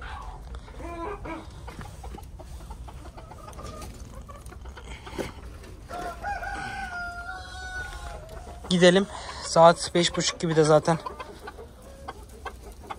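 A dwarf Cochin rooster crows loudly nearby in a drawn-out call, with clucking around it and a voice talking between the crows.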